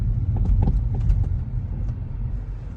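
Road traffic rumbles past nearby, a steady low engine and tyre drone with a few light knocks, and no voices heard.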